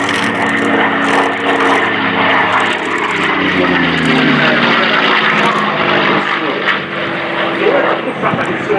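Propeller aircraft in a Battle of Britain 75th anniversary flypast at RIAT 2015, a loud droning engine roar sweeping overhead with a pitch that shifts as the planes pass, with some voices underneath.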